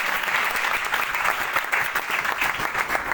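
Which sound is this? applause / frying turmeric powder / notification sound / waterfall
applause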